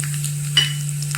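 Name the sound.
mustard seeds, fenugreek and dried chili sizzling in hot oil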